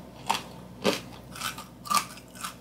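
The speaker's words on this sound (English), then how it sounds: "now let's try the grape nuts" Homemade Grape-Nuts-style cereal crunches between the teeth in five distinct close bites, spaced evenly and fairly quiet, with no talking.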